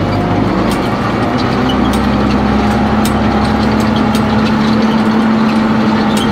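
A heavy tractor engine revved up from tick-over to PTO speed during haymaking runs loud and close, a steady low droning hum with a constant rumbling throb and no voices over it.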